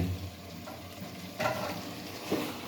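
Garlic and potatoes sizzle and fry in a pan with a few stirring scrapes, a low steady crackle at moderate level.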